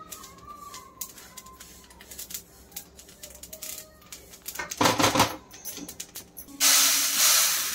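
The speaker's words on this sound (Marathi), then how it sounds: "हे बघा कशी तडतड उडते तीळ, आवाज येतोय तुम्हाला?" Sesame seeds dry-roasting in a pan for til chikki give off scattered crackles and light pops, with a denser burst of spitting midway and a steady hiss toward the end.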